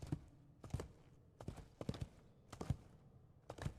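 Agro the horse walks in Shadow of the Colossus, her hooves clip-clopping in a steady rhythm of about six close, dull thuds, with no talk over them.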